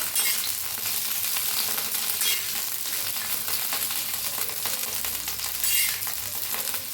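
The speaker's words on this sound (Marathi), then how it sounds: "ते छान अशा भाजून घेऊया गॅस कमीच करा नाहीतर असं लय उडतेत बघा ह्या अशा मिरच्या" Green chillies roasting in oil on a pan over the gas, a loud, dense, crackling sizzle with occasional spatters and stirring, heard up close with no voices.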